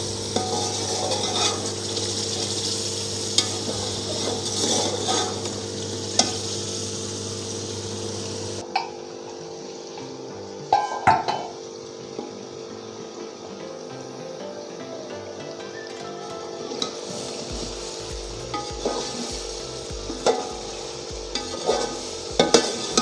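Chicken pieces stirred and roasted in a pot with a spoon, steady scraping and stirring strokes over a low frying sizzle, close and moderately loud, no talking.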